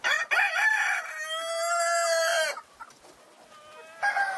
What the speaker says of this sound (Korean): 철저한 품종 분류 결과 이곳에는 복원된 재래 토종닭이 많습니다